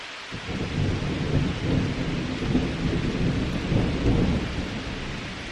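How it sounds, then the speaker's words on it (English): Steady rain pours outdoors at a wilderness camp while thunder rolls low and long in the background, a constant wash of drops with no talk. "I've needed a bit of rain"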